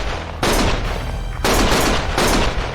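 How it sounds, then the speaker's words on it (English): Rapid bursts of gunfire in the video game Lost Judgment, three loud, dense volleys of automatic shots with short gaps between them, close and harsh. "Stop shooting!"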